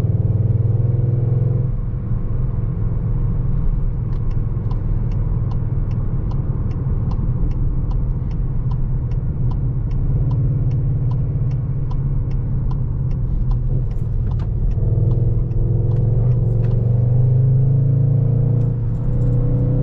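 Steady cabin drone and road rumble from a 2021 Skoda Octavia RS (245 hp) on the Autobahn at night in sport mode, a loud continuous low hum with engine tone rising and shifting near the end.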